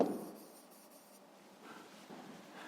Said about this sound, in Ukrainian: записуємо тоді в дужках чого літрів